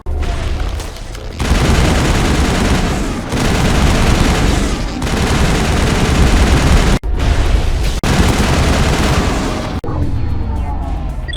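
A large gun fires in a Mass Effect-style sci-fi video game, loud sustained bursts of heavy booming fire in several long volleys with brief gaps, continuing over about ten seconds.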